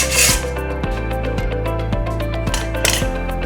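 A hacksaw cuts into a metal padlock with steady back-and-forth strokes, a loud, close, rhythmic rasp repeating about once a second.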